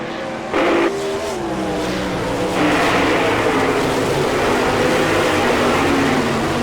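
Sprint cars roar around Selinsgrove Speedway in Pennsylvania during an All Star Circuit of Champions race, a loud, continuous pack of engines with rising and falling pitch as cars pass close by, swelling louder midway.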